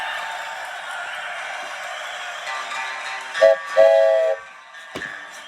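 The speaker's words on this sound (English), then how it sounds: "I believe I can hear that train a-coming." A train whistle sound effect gives a couple of short, close blasts, the second longer, over a faint rumbling background.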